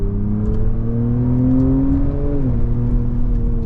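A 2024 Jaguar F-PACE 400 Sport accelerates from inside the cabin. The engine note climbs steadily in pitch, then dips sharply at a gear change before settling into a strong, close hum.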